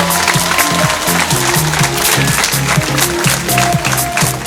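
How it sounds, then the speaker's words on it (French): Sustained applause from an audience at a citizens' political candidate presentation in Tubize, a dense wash of clapping with music playing underneath throughout. "Je vous prie d'applaudir encore une fois Fabien de Kempeneer."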